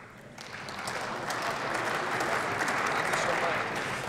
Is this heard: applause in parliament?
yes